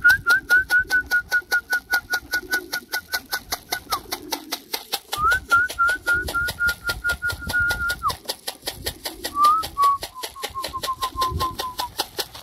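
Pigeons kept outdoors on a cold November day give repeated soft cooing and whistling calls, with intermittent wing flutter and rustling close by, no talk.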